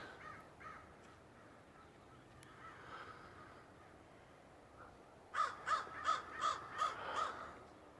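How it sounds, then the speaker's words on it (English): A crow caws six times in a quick, evenly spaced series, fairly near and clear, after several seconds of quiet outdoor background with faint distant calls. "What's up, Crow?"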